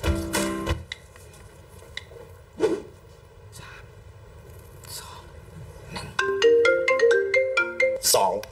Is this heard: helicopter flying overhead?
no